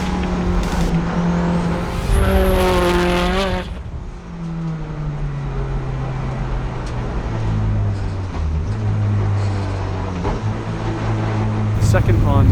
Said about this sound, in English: Completing the final few turns, Al pushing the Pleasure Evo to its limits.